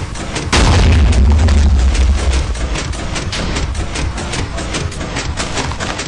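A Minecraft cannon fires with a heavy, close boom, followed by a dense rapid crackle of blasts and pops that carries on steadily to the end.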